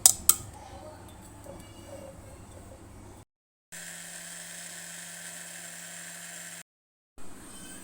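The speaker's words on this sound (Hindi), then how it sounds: "हमने जो और मसाले ऐड किए थे उसको डालकर हमने और पीस लिया" A mixer grinder grinds tandoori masala spices, including red chilli powder, black salt and paprika, with a steady loud whirring whine in two sustained runs separated by abrupt cuts.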